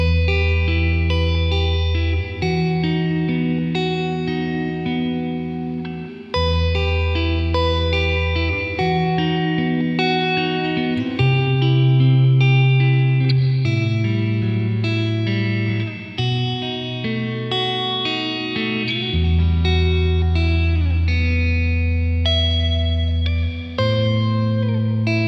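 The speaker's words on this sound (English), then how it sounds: "in 1994 they brought out the RV-3 digital reverb and delay" A guitar played through a Boss RV-3 digital reverb and delay pedal from 1994 rings out in sustained, effected chords and notes with lush reverb and echo tails, loud and continuous, with no talk.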